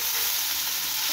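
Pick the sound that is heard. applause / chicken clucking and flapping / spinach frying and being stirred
spinach frying and being stirred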